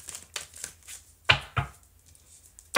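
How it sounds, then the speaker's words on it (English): Tarot cards are shuffled in a few quick riffling bursts, close and crisp, with brief pauses between them. "One more shuffle"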